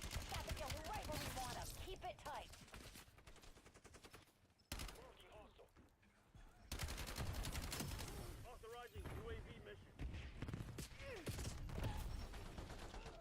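Gunfire in the multiplayer shooter Black Ops 7, dense rapid automatic bursts and sharp reports running almost continuously, loud and close, with brief breaks and game sounds mixed in.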